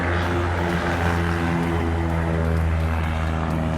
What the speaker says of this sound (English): Plane just took off.